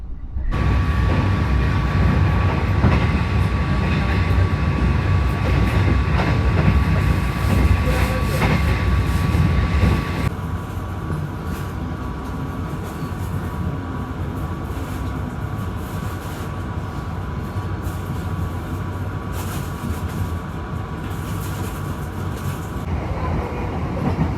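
A passenger train, the Gaya Baru Malam Selatan, rumbles along the tracks with a steady roar and rattling, the noise easing slightly partway through as it keeps rolling and turns left.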